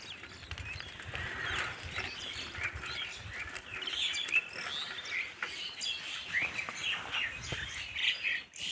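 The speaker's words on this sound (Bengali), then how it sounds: "বকগুলো সব উড়ে গেল আমাকে দাঁড়াতে দেখে।" Flock of egrets flushed from a wet field, with many overlapping chirping calls and some wing flutter, moderately distant and fairly quiet, no voices.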